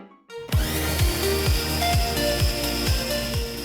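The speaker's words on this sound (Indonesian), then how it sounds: "rawit merah, rawit hijau, bawang putih, dan bawang merah ke chopper" An electric chopper grinds red and green bird's eye chilies, garlic, shallots and spring onion for sambal, its motor starting abruptly and then whirring loudly with repeated rhythmic thumps as the blades hit the pieces.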